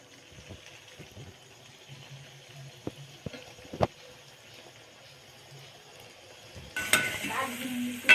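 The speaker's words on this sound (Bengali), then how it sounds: "এবার এগুলো ভেজে নেব।" Square flour sweets go into hot white oil in a kadai: a quiet stretch with scattered utensil knocks, then a loud, bubbling deep-fry sizzle bursts up near the end.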